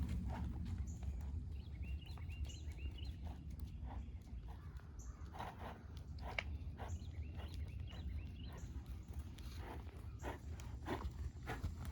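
Horse doing dressage work in an arena, soft hoofbeats clip-clopping in a steady walking rhythm, faint and distant under a low background hum.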